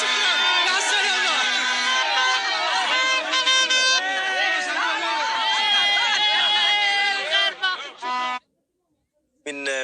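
Moroccan fans celebrate in a city square in Oujda after Morocco's victory over Spain. Loud, dense cheering and chanting fill the air almost continuously, then cut out briefly near the end.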